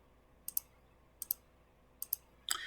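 Buttons pressed on a graphing calculator, sharp isolated clicks mostly in close pairs with short pauses between them, quiet and near, a slightly longer clatter at the end.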